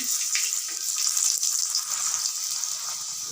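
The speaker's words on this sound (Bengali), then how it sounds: "এভাবে দু পিঠ ভালো করে ভেজে নিচ্ছি দেখুন" A paratha frying in oil in a pan gives a steady bright sizzle with some faint crackles and scrapes, close and continuous, with no voices.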